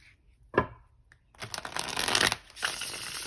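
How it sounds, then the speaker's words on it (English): A Steampunk Tarot deck shuffled by hand: one sharp riffle of cards, then a longer stretch of rustling, sliding shuffling, close and fairly quiet with no voices. "That's how many times we're going to shuffle the deck."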